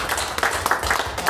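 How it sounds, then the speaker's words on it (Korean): Brief burst of congregational applause at a Korean Sunday church service, a close, dense patter of many hands clapping at once. "우리 하나님 영광의 박수 한번 올리겠습니다."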